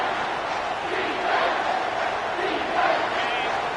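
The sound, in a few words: football stadium crowd roaring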